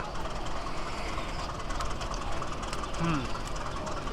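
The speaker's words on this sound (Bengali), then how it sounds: "আর এই হচ্ছে আমাদের বলাকা কমিউটার ট্রেন" The Balaka Commuter train runs through the foggy, cold Mymensingh countryside on the Dhaka to Mymensingh line, a loud, continuous rumble and rattle of the carriages heard from on board, with a voice now and then.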